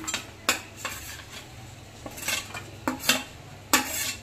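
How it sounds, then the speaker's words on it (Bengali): Fried meat being added piece by piece to rice cooking in a pot, giving a few close metallic clinks and scrapes of a spoon against the pot over a low, steady background, with no talking. "তো এবার একে একে মাংসগুলো দিয়ে দিচ্ছি।"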